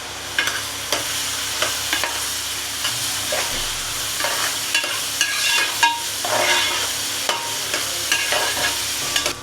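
Green chillies sizzle in hot oil in a pan for a tamarind-leaf murrel fish curry; a steady close frying hiss runs throughout, broken by repeated scraping stirs and light clinks of the spoon.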